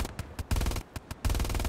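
Automatic weapon fire from the Hell Let Loose video game, likely an STG, in loud rapid bursts separated by short gaps, with a long sustained volley at the end.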